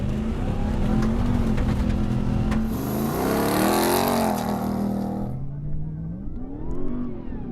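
A car accelerates hard on a loose surface, its engine revving loudly and climbing in pitch, then easing off before revving again, with no talk.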